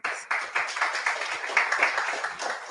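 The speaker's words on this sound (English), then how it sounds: "let's all give a big round of applause to Bindu" Audience in a Chicago Q&A session clapping steadily, a dense patter of many hands sustained throughout at moderate loudness with no talk over it.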